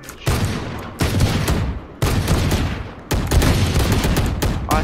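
Gunfire in the Valorant shooter game comes in loud, abrupt bursts, four sharp volleys of rapid shots close up, each cutting off before the next begins, with no talking over them.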